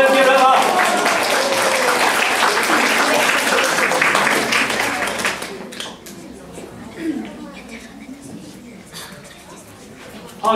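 An audience at a children's literary award ceremony claps enthusiastically in a loud, dense burst of applause lasting about five seconds, then fades into scattered, quieter room sounds with a few brief voices.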